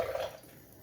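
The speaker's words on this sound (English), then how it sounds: "I'm going to turn on my faucet here" A kitchen faucet runs briefly, a soft splash of water that fades quickly into a quiet room.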